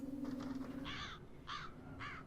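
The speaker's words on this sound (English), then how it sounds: "Oh, bloody crows." Crows caw in the horror video game Dead Secret, three harsh, evenly spaced caws following a fainter bird call, over a steady low ambient drone.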